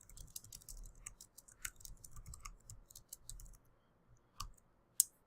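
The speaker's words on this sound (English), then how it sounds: "you'd come down here and type in the question" Keys clatter on a computer keyboard in quick, uneven runs of soft clicks, close and quiet, pausing briefly before a final sharper click.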